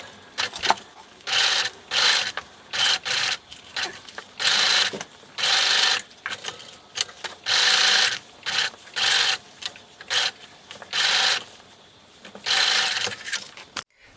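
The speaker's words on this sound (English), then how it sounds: "I'm going to baste around this edge to keep these two layers of fabric together" Sewing machine basting two fabric layers of a Christmas stocking, whirring in repeated short runs of about a second with brief stops between, close and steady.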